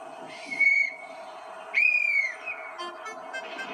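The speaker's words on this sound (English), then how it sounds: "It sounded like a whistle." Two short shrill blasts on a whistle, the second longer and slightly louder, heard clearly against a soft background with light rustling.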